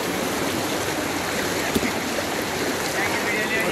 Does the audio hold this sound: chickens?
no